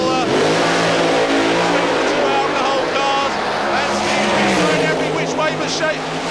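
Two alcohol-fuelled dragsters revving at Santa Pod in 1992, a loud continuous engine roar that rises and falls as the revs build, with a commentator talking over it.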